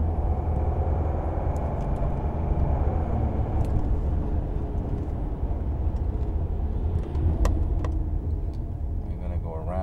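A 2009 Mercedes E320 Bluetec diesel engine hums at low, steady rumble under throttle while losing boost, the engine note staying flat without rising, with faint cabin noises and light clicks over it.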